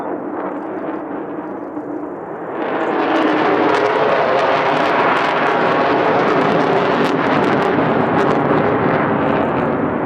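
An F-35B fighter jet flying an aerobatic airshow display at Fleet Week roars in as a loud, broad, sustained jet rush that swells sharply after a couple of seconds and stays heavy to the end, with some wind buffeting.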